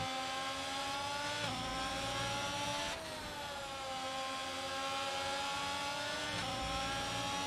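A McLaren race car in a racing video game holds a loud, continuous high-revving engine whine with gear-shift dips in pitch and other cars droning close alongside, with no talk over it.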